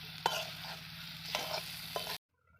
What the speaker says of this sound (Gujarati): હવે આપણે એને ધીમા ધીમા તાપે તળાવવા દેવાનું છે.